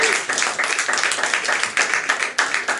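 Audience clapping throughout a LinkedIn Local networking event with a guest speaker, dense and steady with a few louder bursts, close and continuous.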